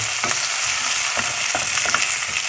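Salted pumpkin being stirred in a frying pan, a continuous loud sizzle broken by several quick scraping strokes of the spoon.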